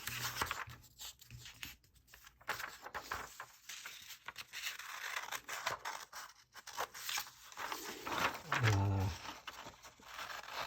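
Scissors cut out paper squares for a hands-on Pythagorean proof activity, giving quiet, close snips and paper rustles in an irregular rhythm, with a bit of soft talking in the background.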